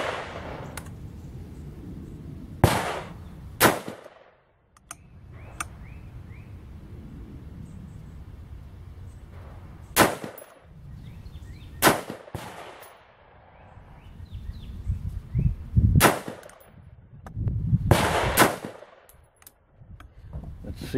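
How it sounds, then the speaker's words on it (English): Rifle shots from a Daniel Defense M16 A1.5 with fixed rear sight on a 50-yard range ring out as loud, sharp single cracks spaced a few seconds apart, several in succession over a low outdoor background. "And let's go put 5 more rounds down range and confirm."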